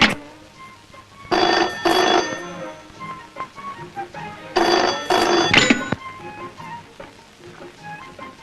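A telephone rings in two loud bursts of bright double trills separated by a pause, with faint room noise and small clicks between the rings.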